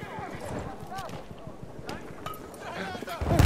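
Horse galloping in the video game Battlefield 1, a rapid clip-clop of hooves running throughout, with excited voices talking over the game sounds.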